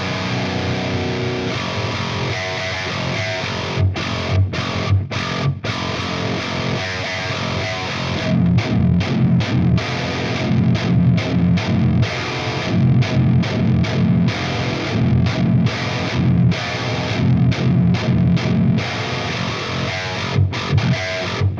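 Distorted 8-string electric guitar played through an Axe FX with an Ownhammer Diesel rear-loaded cabinet with V30 speakers, heavy metal riffing with chugging palm-muted bursts and sharp stops, loud and alone.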